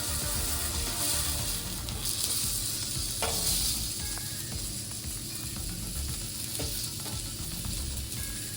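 Food frying gently in a pan, a steady close sizzle with soft crackles and a few brief scraping stirs, running throughout with no talking.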